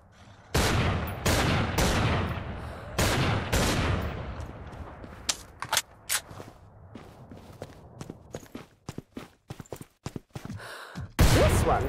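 Gun firing in Killing Floor 2: rapid loud bursts of close shots at first, then scattered single sharp shots with clattering footsteps between them, ending in a final heavy volley.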